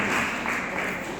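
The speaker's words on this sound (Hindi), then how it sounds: "उनके लिए भी एक बार जोरदार तालियां बजाइए" Audience applause at a spring literary and arts festival stage event, a short dense burst of steady clapping, fairly close and loud.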